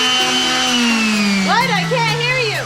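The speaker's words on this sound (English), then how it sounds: "I'm sanding this vase. It's made out of bamboo." Power sander running steadily on a bamboo vase, a loud continuous motor whine with harmonic tones that slowly drop in pitch, overlapped by a voice talking near the end.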